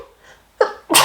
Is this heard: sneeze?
yes